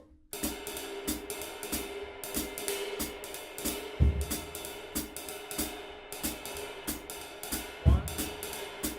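Drums play an uptempo jazz swung groove with crisp cymbal strokes and a heavier accent every few seconds, moderately loud and without any talking.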